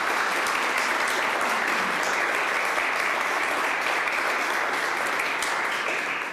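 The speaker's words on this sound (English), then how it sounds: "Let's give both these candidates a round of applause." An audience at a Sonoma County district attorney candidate forum applauds the candidates, a dense, even wash of clapping that holds steady and loud throughout.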